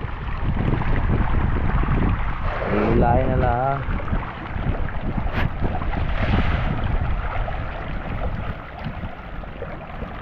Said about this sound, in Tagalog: Ay bigla namang lumakas ang hangin.